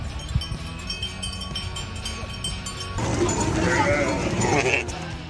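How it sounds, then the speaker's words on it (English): A large flock of sheep crowds a forest road with bleats and shuffling hooves, and the sound grows louder and denser in the second half under background music. "A large flock of sheep suddenly blocked Block Road, turning a forest road into a four-legged runway in the middle of nature."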